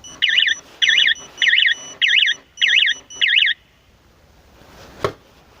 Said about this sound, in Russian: Если второй раз, будет сигнализация сработает